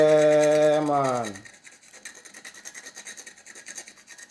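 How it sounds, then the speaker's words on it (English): Chocolate being grated over a custard apple punch, a soft rhythmic rasping scrape repeated in quick strokes, following a short sung or hummed voice at the start. "I'm gonna grate some chocolate on top."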